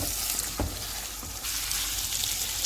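Honey chilli chicken frying in a pan gives a steady close sizzle with a couple of soft stirring scrapes, no voices.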